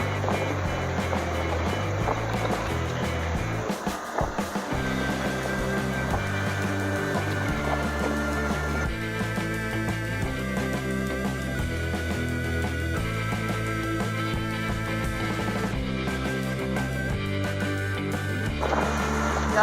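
A boat motors along at full throttle at about 4.6 knots in the Florida Keys, a continuous loud rumbling drone with rough, wind-buffeted noise and no talking.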